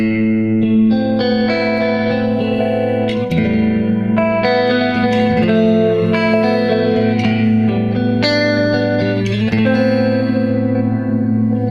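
An electric guitar tone modelled on a Keeley Halo and rebuilt on a Kemper Profiler, with delay and reverb switched off, rings out as sustained distorted chords and single notes played continuously and loud with no talking.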